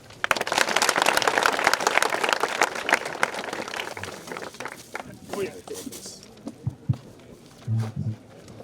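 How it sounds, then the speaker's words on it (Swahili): Audience clapping at a school gift-giving ceremony, a dense burst of applause that fades out after about six seconds, followed by scattered handling noises and brief voices. "Tupige makofi."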